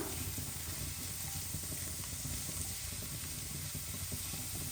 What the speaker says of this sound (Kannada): ಇದೊಂದು 2 ನಿಮಿಷ ಹೀಗೆ ಫ್ರೈ ಮಾಡ್ಕೊಂಡ ತಕ್ಷಣ ನೋಡಿ, ಈ ಥರ ಚೆನ್ನಾಗಿ ಕೈ ಆಡಿಸ್ಕೊಳ್ತಾ ಫ್ರೈ ಮಾಡ್ಕೊಳ್ಳಿ.